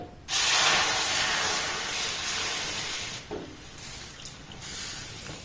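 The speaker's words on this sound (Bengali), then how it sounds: "এবার ওই একই কাপে মাপ করে এখানে আমি দিয়ে দেব দুই থেকে আড়াই কাপ জল" Water rushes into a hot cooking pan for a rice-flour pitha batter, a loud steady hissing pour that starts abruptly, eases off, then comes in shorter bursts near the end.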